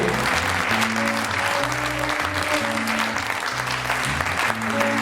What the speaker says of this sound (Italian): Un applauso a loro dunque che sono stati così gentili